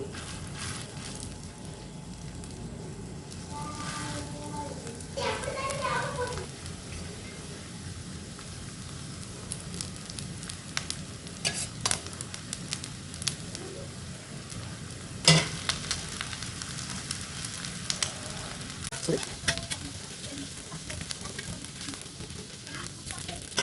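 Rava and vegetable cutlets fry in oil on a hot tawa with a soft, steady sizzle, quiet and continuous, broken by occasional scraping and clicking of a spatula.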